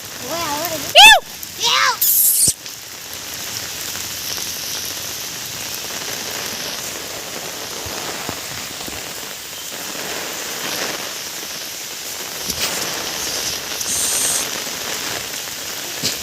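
The first monsoon rain in a Konkan village falls as a steady, even patter on surfaces, nearby and unbroken, with a few brief voices and bumps early on.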